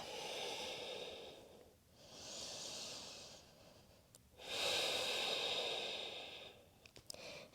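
Deep, steady breathing during a modified pyramid yoga pose, long audible inhales and exhales through the nose with a hissing, close quality and brief pauses between breaths.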